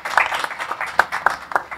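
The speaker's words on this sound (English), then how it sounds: "Let's give him a round of applause." A short burst of scattered audience clapping at a Rice University panel event honoring a speaker, a few sharp claps standing out over a thin patter, brief and moderately near.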